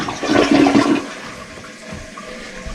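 A toilet flushes once after being installed, checked for leaks: a loud rushing surge of water for about a second, then a quieter draining and refilling trickle that continues alone.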